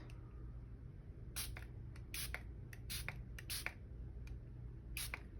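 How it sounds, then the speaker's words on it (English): Quick, faint hissing bursts of release agent sprayed onto a plaster casting mold, several short puffs in an uneven sequence, close up over a low background hum, no speech. "first you spray your mold, and I spray it in 5 places"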